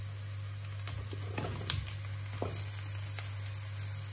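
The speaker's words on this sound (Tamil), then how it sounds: "இப்ப மாங்காய சேர்ப்போம்." Green mango pieces going into a pan of frying onions and chillies with curry leaves for a mango curry, giving soft sizzling and a few light clatters over a steady stove hum.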